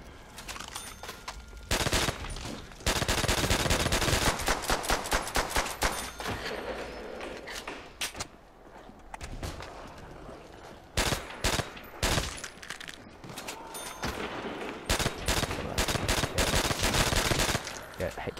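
Carbine gunfire in Call of Duty: World at War Zombies, repeated bursts of rapid shots with short pauses between them, loud and close, while a player talks in between.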